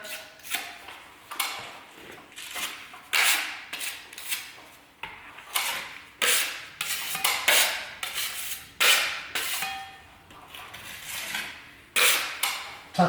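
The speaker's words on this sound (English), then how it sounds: "So straight over the top, just skim it like that." Plaster filler compound skimmed with a trowel or knife over a crack in a ceiling, giving a steady series of short scraping strokes at close range with brief pauses between them.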